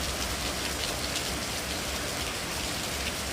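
Steady, dense rain falling in a continuous wash with no pauses, close and even throughout, with no voices.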